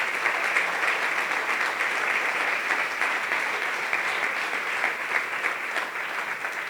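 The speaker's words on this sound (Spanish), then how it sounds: "denle un aplauso al Rey, por favor." Church congregation applauding at a Sunday service, a steady dense wash of clapping hands that holds at an even level throughout with no voice over it.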